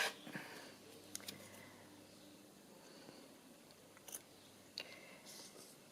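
Scissors snip a paper tag in a quiet room while a music journal is being made, giving a few faint, sharp cuts spaced apart with near silence between them.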